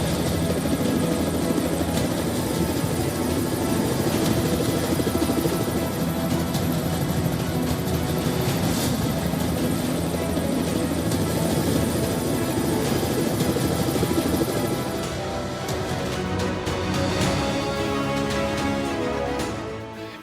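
Loud, steady rotor throb and turbine whine of a Boeing Apache AH-64E attack helicopter in flight, sustained for about fifteen seconds before easing slightly, with no talk.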